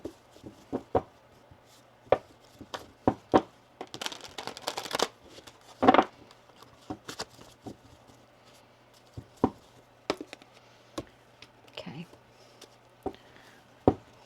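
Tarot cards being shuffled in repeated short bursts of riffling and tapping, close and fairly quiet, with brief gaps between handfuls.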